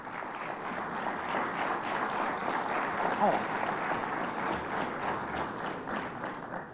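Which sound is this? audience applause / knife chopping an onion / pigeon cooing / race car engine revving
audience applause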